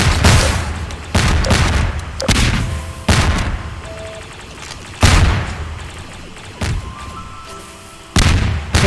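Turret fire in a video game, heavy booming shots in an irregular rhythm of about eight blasts, each with a short rumbling tail, loud and close with no talking.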